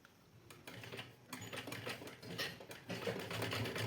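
A domestic sewing machine stitches a designer blouse in a steady, fast mechanical whir that builds slightly in intensity, heard close and alone without talking.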